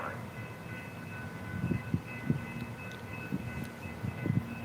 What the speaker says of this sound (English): Train is so slow.